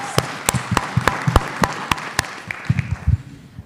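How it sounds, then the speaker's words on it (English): A few scattered, loud individual claps ring out at an irregular rhythm as an audience gives event organizers a round of applause, with low murmuring and shuffling beneath. "I think they deserve a round of applause."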